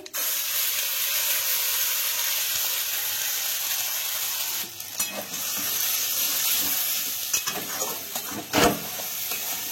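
A spice paste goes into a hot pan with cumin, dried chillies, bay leaves and fennel, making a loud continuous sizzle and hiss throughout, with a few stirring scrapes near the end.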